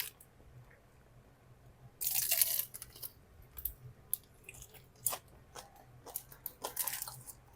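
Crunchy bites and chewing of fried chicken, ASMR style, with a loud crisp burst near the start followed by scattered softer crunches and mouth sounds, close to the mic in a quiet room.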